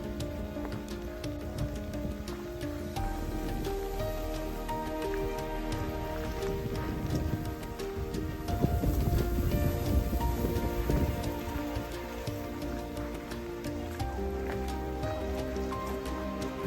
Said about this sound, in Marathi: आता सध्या तरी पाऊस रिमझिम आहे